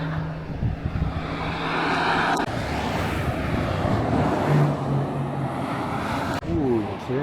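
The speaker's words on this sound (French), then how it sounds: "Ouh, il accélère, ça Porsche." A Porsche accelerates at the Le Mans Classic with a loud, rising engine roar that swells and sweeps past over several seconds against crowd noise. A voice talks briefly at the end.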